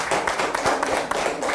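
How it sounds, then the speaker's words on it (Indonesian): Schoolchildren clap their hands together, a group of quick, fairly loud claps at an uneven rhythm, close by and with no talking over them. "Ada tepuk tangan dong."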